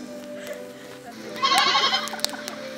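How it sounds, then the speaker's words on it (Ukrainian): Sheep bleat in a Christmas nativity shepherds' scene: a short burst of wavering bleats rises midway over a quiet background, followed by a single sharp knock. "чутне було бекання овець"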